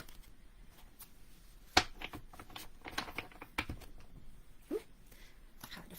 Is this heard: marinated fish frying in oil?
no